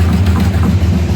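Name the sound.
1973 Dodge Charger engine running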